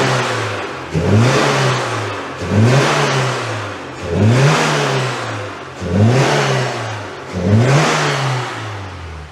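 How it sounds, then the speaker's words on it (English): An Oltcit car engine revs repeatedly while water is blasted out of the exhaust, about five strong rising surges spaced roughly every one and a half seconds, loud and close with a rushing spray through each rev. "I'm gonna blast some water out of that exhaust"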